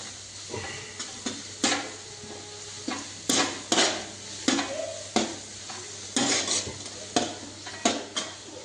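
Garlic paste fries in a pan while a utensil repeatedly scrapes and clatters against the metal in a brisk, uneven rhythm over a soft continuous sizzle, close by.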